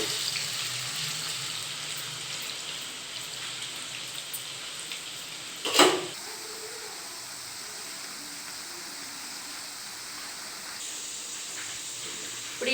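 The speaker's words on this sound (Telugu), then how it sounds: "ఆయిల్లో మంచిగా గోలించుకోవాలి వీటిని" Pieces frying in hot oil, a continuous close sizzle and crackle that holds steady, broken by one sharp clatter midway.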